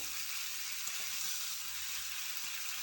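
String beans frying with egg in a pan give off a steady, even sizzle throughout, moderately close, with faint stirring ticks beneath and no speech.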